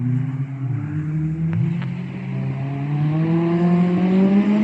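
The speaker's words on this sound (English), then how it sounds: "You can hear the GT3 take off." A Porsche GT3 pulls away on the Cadwell Park circuit during a track day, its engine note climbing smoothly and strongly as it accelerates through the gears. The sound is clear and sustained, with no talking over it.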